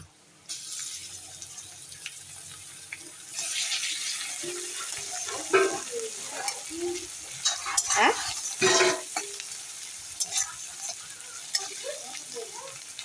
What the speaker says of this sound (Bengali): রসুনটা হয়ে গিয়েছে এবার একটু পেঁয়াজ দিচ্ছি